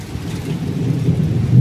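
Heavy rain pours steadily while deep thunder rumbles low beneath it, a loud, dense roar that swells slightly toward the end, with no voices.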